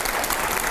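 An audience at a televised debate with editors applauds, a dense, steady wash of clapping that is loud and continuous throughout with no voices on top.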